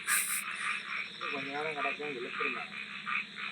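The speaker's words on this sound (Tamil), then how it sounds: "வெறும் தண்ணி காடு தவளை எல்லாம் உள்ளே வருது" Frogs croak in a steady, dense chorus with insect-like trilling, faint and distant during very heavy rain, while a voice talks quietly underneath.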